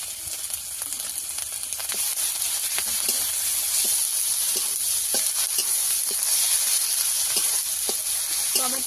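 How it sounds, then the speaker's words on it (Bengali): Turmeric, ginger, dried chili paste and tomato fry in a pan for a pangas fish curry, a constant close sizzle and hiss with occasional stirring scrapes, no talk. "আদা শুকনো লঙ্কা বাটা একসঙ্গে ভালো করে কষিয়ে নিয়েছি"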